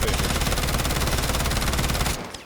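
Rapid automatic fire from a Vector submachine gun in a close-quarters video game loadout, a loud continuous burst of shots lasting about two seconds before cutting off.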